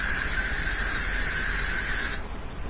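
Loud, steady spray hissing for about two seconds, close up, then cutting off abruptly, leaving faint background noise.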